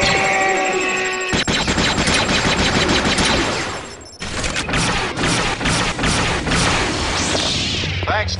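Heavy machine gun fire in Star Wars Jedi Knight II: Jedi Outcast, loud sustained bursts of rapid shots with impacts and whooshes, a brief break midway before the firing resumes.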